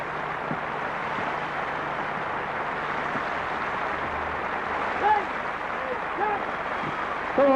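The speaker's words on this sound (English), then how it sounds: "Come on, keep clapping." Applause at a military tattoo in Colchester comes as a steady wash of distant clapping that rolls on throughout, with a few faint tonal sounds toward the end.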